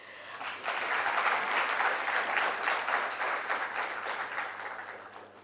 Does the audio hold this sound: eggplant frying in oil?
no